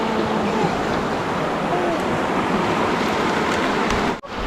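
Steady broadband hiss of rain falling outdoors by a river in the rural countryside, loud and continuous throughout, with a brief dip near the end.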